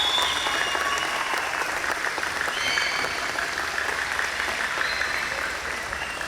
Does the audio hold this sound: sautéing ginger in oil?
no